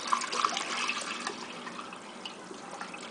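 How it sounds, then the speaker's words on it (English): Tap water pours into a cooking pot over washed potatoes, a steady soft gushing and trickling with a few small splashes, close and fairly quiet. "after you have washed the potatoes, you're going to cover them with water"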